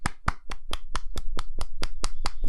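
A lone person claps steadily, with about ten sharp, evenly spaced, close claps filling a couple of seconds and no talking.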